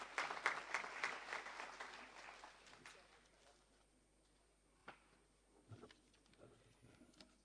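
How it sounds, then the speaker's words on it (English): Audience applause for presenters at a conference session, a burst of clapping that swells over the first few seconds then thins out into scattered claps, with a voice speaking briefly amid the room noise. "can we have the last round of applause to the presenters?"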